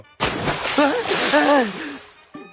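A bucket of water is thrown onto a sleeping man: a sudden loud splash and slosh opens the moment, then a voice cries out over the fading spill.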